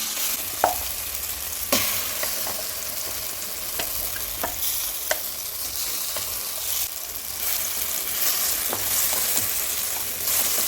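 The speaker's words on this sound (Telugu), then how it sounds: "కొంచెం ఇలా కలుపుతూ ఫ్రై చేసుకుంటే అన్ని ముక్కలు కూడా" Chopped bitter gourd and ground chilli fry in oil in a pan, sizzling steadily while a spoon scrapes and stirs now and then, giving occasional sharp clinks over the constant frying hiss.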